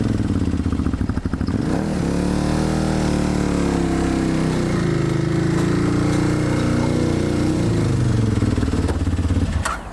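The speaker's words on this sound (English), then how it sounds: "I'm going to feather the clutch out slowly as we go up the ramp" A motorcycle engine runs loud and close while the bike is walked up a truck ramp with the clutch feathered, its steady drone swelling and shifting in pitch before cutting off abruptly at the end.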